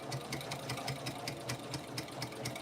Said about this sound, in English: I'm going to back stitch because I want to make sure that when I get ready to join those two pieces together, that my stitches don't break.